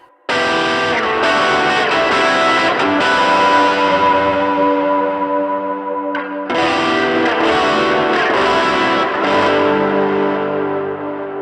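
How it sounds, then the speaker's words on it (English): Electric guitar on the bridge pickup runs through an HX Stomp with distortion, echo and modulation effects, giving sustained, bright overdriven chords and notes that ring continuously with a brief break partway through, loud and close with no voices. "See what it sounds like with the bridge pickup."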